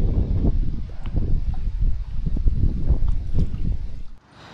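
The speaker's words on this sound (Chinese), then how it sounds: "這個風呼呼的吹啊。" Strong cold-wave wind blows by a riverbank, a loud low buffeting roar with gusty pulses across the microphone that drops away abruptly at the end.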